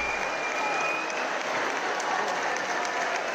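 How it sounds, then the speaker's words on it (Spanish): Steady, dense applause from a large crowd greeting Queen Letizia, sustained and even throughout, with a faint murmur of voices mixed in. "donde va, va siempre le aplauden"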